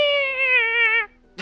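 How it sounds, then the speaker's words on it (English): A single drawn-out meow, loud and close, lasting about a second, then a brief rustle. "Meow, meow, meow, meow."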